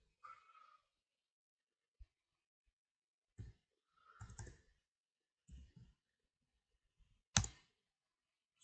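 Sparse mouse clicks on a computer during an online networking class, a handful of separate short clicks spread out with quiet gaps, close and fairly soft, with faint bits of voice between them.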